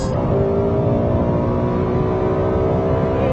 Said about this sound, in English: what an engine in this LFA! It sounds sensational!